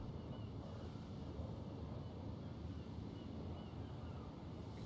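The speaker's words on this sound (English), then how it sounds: "I can hear the wind. I don't know if you guys can hear it, but it's getting quite windy out there." Strong wind roars across the deck of a crab fishing boat during an Alaskan storm in the video game Deadliest Catch: Alaskan Storm, a constant dense rushing noise with no talking.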